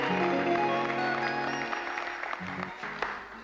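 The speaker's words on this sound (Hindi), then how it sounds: "तालियों में हम कवि को रुखसत करते हैं।" A television studio audience applauds to bid farewell to a poet, a warm, dense clapping that starts full and gradually thins and fades out.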